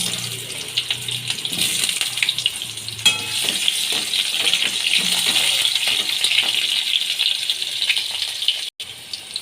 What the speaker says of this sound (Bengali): আলুগুলো আমি ভেজে নিচ্ছি